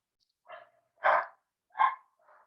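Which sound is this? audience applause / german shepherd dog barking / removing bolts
german shepherd dog barking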